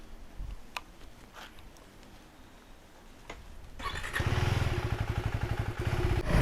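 A Duke 350 motorcycle engine starts up after a quiet stretch, then runs close and loud at idle with a steady, throbbing pulse.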